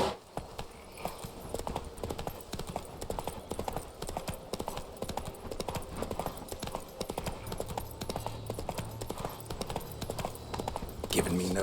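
In The Witcher 3: Wild Hunt, the horse Roach trots, and her hooves clip-clop in a quick, steady rhythm at moderate volume. Someone speaks briefly near the end.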